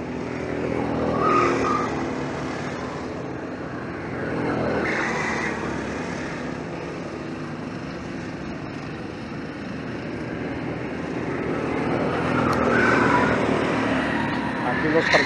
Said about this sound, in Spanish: tenemos aquí carrera de cars